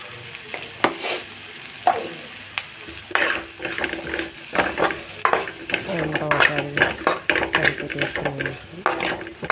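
Spices and chopped vegetables for egg fried rice stirred in a hot pan with coriander powder, a continuous close sizzle under repeated scraping and clattering of a spoon against the metal.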